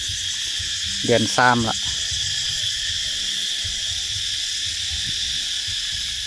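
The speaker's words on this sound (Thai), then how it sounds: "จะได้ยินเสียงแมงจักจั่น" Cicadas drone steadily and loudly in the dry season around a rural earthen house and garden, forming a continuous high buzzing bed throughout, with a brief voice speaking near the start.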